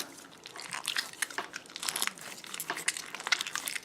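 Crunchy slime packed with glass beads, clear and jelly-like, squished by hand, giving a steady stream of close crackling and crinkling pops with no talking.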